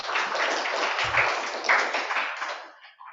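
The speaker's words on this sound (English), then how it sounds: "Let's give him a big applause too." Audience applause at a regional conference session after a presentation, a broad sustained wash of clapping across the clip that thins and fades toward the end.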